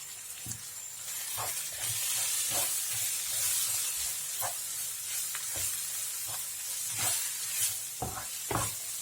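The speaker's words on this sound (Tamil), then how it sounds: "இந்த எண்ணெயிலேயே நல்லா வதங்கட்டும்" Ground fennel, cumin and garam masala sauté in hot oil for mushroom masala, giving a steady close sizzle and hiss broken by occasional scraping stirs of the pan.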